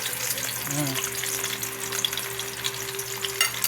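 Eggplant omelette frying gently in a pan on low heat gives a steady, close sizzle and crackle throughout, with faint background sounds.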